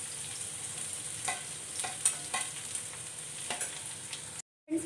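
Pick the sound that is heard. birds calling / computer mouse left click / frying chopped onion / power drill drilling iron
frying chopped onion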